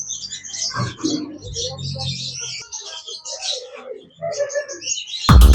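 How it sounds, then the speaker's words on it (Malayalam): Macaws in a farm aviary give scattered raspy squawks and chirps at moderate distance, ending in a sudden loud, close burst. "ഗൈസ് ഇവിടെ വേറെ കുറച്ച് മക്കാവുണ്ട്"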